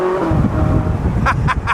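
Ferrari 458 supercar fitted with a loud aftermarket exhaust, a close, strong low engine rumble holding steady for a moment, with a few short higher pops or crackles near the end and no talk.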